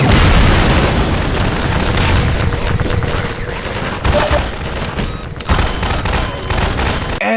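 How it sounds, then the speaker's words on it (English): Heavy rapid-fire mega cannon blasts from a Strider in Half-Life 2 roar continuously, dense booming gunfire with explosive bursts, loud and close. "a huge strider shooting its mega cannon at me"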